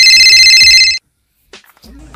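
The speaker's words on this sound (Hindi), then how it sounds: "आपके घर फोन आई है।" A telephone bell rings loudly in a steady trill for under a second, then cuts off; after a pause, faint speech-like sounds follow.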